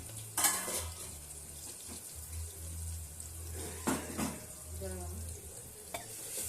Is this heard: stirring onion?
yes